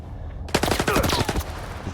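Rapid automatic gunfire in the video game S.T.A.L.K.E.R. 2 bursts out suddenly, a loud close burst of shots fired at the player, with no talking over it.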